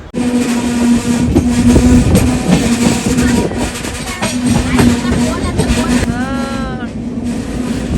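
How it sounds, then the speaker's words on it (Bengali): A train travelling through mountains rumbles loudly and continuously, with a rolling mechanical roar and a brief rising tonal sound near the end. "আপনাদেরকে আওয়াজটা শোনাই আমি এটা পাহাড়ের ভেতর দিয়ে যাচ্ছে ট্রেনটা"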